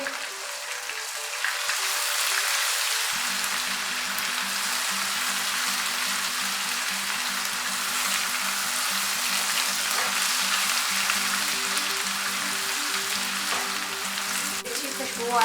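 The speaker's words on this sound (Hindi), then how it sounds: "साथ ही लहसुन अदरक की पेस्ट और हरी मिर्च की पेस्ट शामिल करें। इसको थोड़ा सा भूनेंगे।" Garlic-ginger paste and green chili paste fry in a hot pan for a chicken curry, a steady, close sizzle that swells a few seconds in and holds without break.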